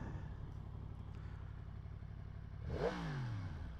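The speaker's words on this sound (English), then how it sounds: "It's not bad for an exhaust sound." A 2023 Yamaha MT-10 motorcycle idles with a steady low exhaust rumble, then revs once in a rising and falling swell near the end.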